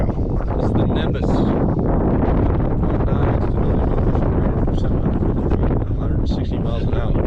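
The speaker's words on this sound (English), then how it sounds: "It's getting a lot windier, isn't it, Ellie?" Strong gusty wind buffets the microphone outdoors at a model rocket launch field, a loud continuous roar with rustling, while people talk over it.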